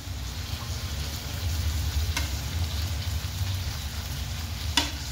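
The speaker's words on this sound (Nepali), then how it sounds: "यसरी यो प्याजलाई भुटिन दिन्छु म एकछिनको लागि" Onions fry in a pan alongside already browned chicken, a steady close sizzle running throughout with a couple of brief sharp clicks from stirring.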